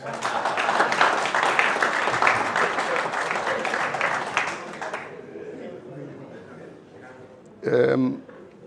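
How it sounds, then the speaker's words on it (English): Audience applause at a sports legends event in the Gambia, steady, fairly loud clapping for about five seconds that then stops, followed by a quiet room and a brief burst of voice. "Clap for me, please."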